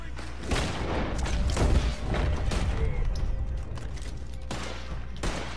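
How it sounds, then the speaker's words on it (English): Dynamite shot and detonated in Red Dead Redemption 2 Online, a loud close blast with rumbling debris and scattered gunfire around it, followed by a second burst near the end. "Get a clear shot of dynamite,"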